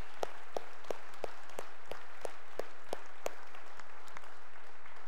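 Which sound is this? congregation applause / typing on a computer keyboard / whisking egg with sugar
congregation applause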